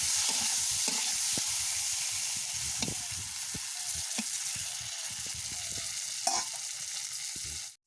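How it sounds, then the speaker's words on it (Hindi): Fish sizzling and frying in hot oil in a kadai, a steady close crackle with occasional stirring clicks and bubbling bursts throughout. "कढ़ई रे तेल ढाली तिरे माछ पकेइले"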